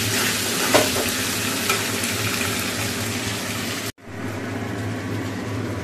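Diced potatoes sauté in hot oil in a kadai for a vegetarian cauliflower curry with tomato, bay leaf and garam masala: a steady, close sizzle with scraping stirs, dropping abruptly to a quieter frying hiss partway through.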